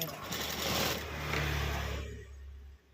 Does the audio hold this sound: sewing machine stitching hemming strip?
yes